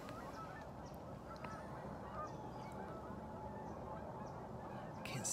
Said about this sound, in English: might not be seeing any deer, but we're at least seeing geese